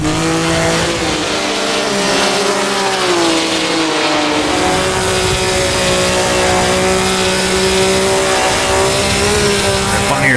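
A Maserati 250F race car engine in the Assetto Corsa sim racing game, roaring loud and continuous at high revs with pitch sweeping through a downshift to third gear, tires faintly squealing underneath.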